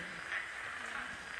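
Frogs calling in Bonito, Brazil, a dense and steady chorus of croaks, soft and distant, continuing without a break.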